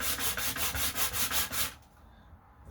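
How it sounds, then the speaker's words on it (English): A coin ring is rubbed back and forth on a knife sharpener block with different grits on each side, giving a rhythmic rasping scrape of about eight even strokes. The strokes stop abruptly, followed by near quiet. "I'm going to actually hit this on this knife sharpener. It has different grits on each side of the block."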